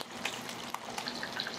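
Battered shrimp deep-frying in hot oil for chili shrimp, a steady soft crackling sizzle with scattered small pops, fairly quiet and continuous with no talk.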